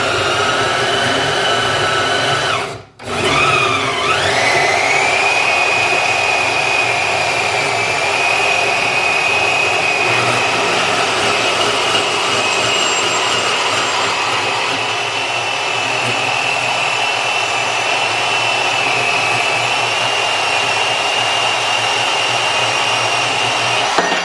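A Milwaukee portable bandsaw cuts through 2-inch square steel tube with 1/8-inch walls, giving a steady, loud, high-pitched whine. A short break comes early on, then the blade grinds on evenly through the rest of the cut, with no talking.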